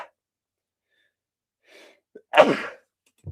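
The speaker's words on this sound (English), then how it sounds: "I'm going to sneeze." A single sharp sneeze from a man who is sick, preceded by a faint inhale and catch of breath, close and loud in an otherwise quiet room, followed by a brief breath.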